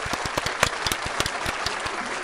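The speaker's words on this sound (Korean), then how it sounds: "박수 또 칠까?" Audience applause at a YBM Jongno TOEIC lecture, a short burst of dense clapping with sharp individual claps standing out, close and steady throughout.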